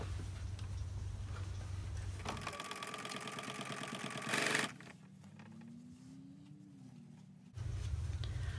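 A sewing machine stitches down the facing on an art quilt, running in steady bursts with a rapid mechanical patter, pausing into a quieter stretch before the motor hum resumes.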